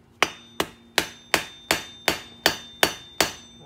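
Steel hammer strikes a chisel to free a seized ABS wheel sensor on a Lexus IS 250/350, nine sharp ringing metallic blows in a steady even rhythm, close and loud, each decaying briefly before the next.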